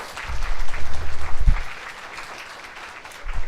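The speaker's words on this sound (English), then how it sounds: "Give them a round of applause." Audience applause for panelists at a university orientation day, a loud burst of clapping in the first second and a half that fades to a quiet room, with a brief swell of clapping again at the end.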